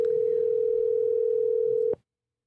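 A steady single-pitch telephone tone sounds while a cell phone is being called, holding unbroken and fairly loud for about two seconds before cutting off abruptly into silence.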